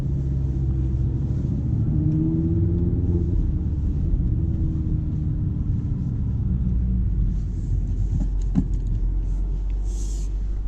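An Audi RS3 Sportback (2018) in sport mode gives a steady, loud low engine rumble with rising and falling tonal bands as it accelerates, and a brief sharp knock near the end.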